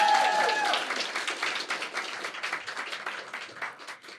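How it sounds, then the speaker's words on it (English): A live audience claps for a guest introduced on stage at a podcast event, steady applause with dense clatter that tapers slightly, faint tonal traces at the start, no talk. "Can we give her a massive round of applause?"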